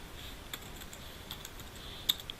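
Keys tapped on a computer keyboard while manually entering text into an MS Excel invoice, a few soft, close clicks with one sharper keystroke near the end, irregular and quiet, with no talking.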